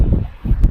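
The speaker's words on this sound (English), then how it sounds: "It's so windy." Wind gusts rumble against the microphone in short low bursts on a river boat, with a brief sharp rustle near the end and no speech.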